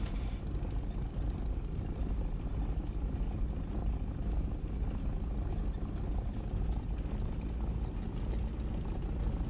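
Propeller aircraft engine droning steadily during an infield takeoff in the DCS World flight sim, a loud, continuous low rumble with no gaps and no talk.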